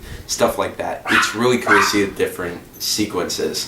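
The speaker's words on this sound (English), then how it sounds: "I apologize for the background noise of my dog barking." A dog barks intermittently in the background while a person talks continuously and loudly in the foreground.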